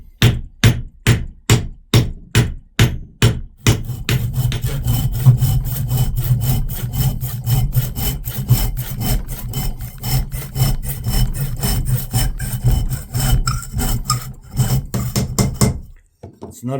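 Wood is trimmed with a hand saw, first with about eight slow, distinct strokes, then a fast continuous rasping run that stops abruptly near the end. The sawing is close and loud.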